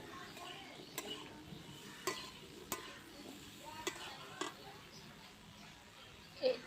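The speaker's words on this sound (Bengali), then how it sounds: "কিছুক্ষণ আবারও কষিয়ে নেব" Potatoes sauté with turmeric and salt, gently sizzling in a pan while a utensil stirs and scrapes the metal in occasional sharp clicks; quiet and close.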